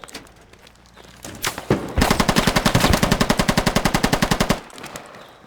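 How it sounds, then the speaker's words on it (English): Automatic machine gun fire in the military shooter game Squad, a loud rapid burst of evenly spaced shots lasting a few seconds, preceded by scattered single shots. "It's machine gun, watch out, boys."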